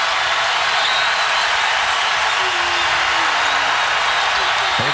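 Loud partisan Wildcats basketball crowd roaring and cheering inside an Atlanta arena, a dense sustained wall of noise with no break throughout.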